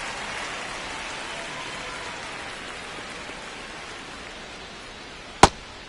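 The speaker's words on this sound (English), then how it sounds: "It feels like we might be headed towards a rain delay if the weather doesn't ease up, Chris." Steady rain falls over a ballpark during a baseball game, a constant hiss of drops filling the scene, broken near the end by one sharp crack; nobody speaks.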